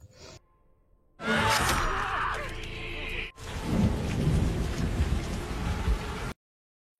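Heavy rain pours down with a rumble of thunder in a scene from an Indonesian zombie film, starting abruptly after a quiet moment, loud and steady before cutting to silence.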